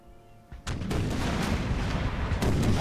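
Cannons firing in an American Civil War video game: after a quieter start, a sharp blast sets off a sustained loud roar of booming cannon fire, with a second crack near the end.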